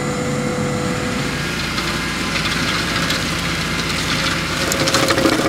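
A tractor-mounted milling cutter with an auger-shaped profile grinds slowly across a road embankment at about 2.3 km/h, chewing soil, stones and roots; a loud, steady engine drone with dense crunching and rattling runs throughout, rising slightly near the end.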